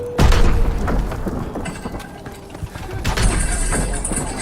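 A pump shotgun fires in Call of Duty WW2 multiplayer, giving a loud booming report at the start followed by rumbling game noise and a second thump later.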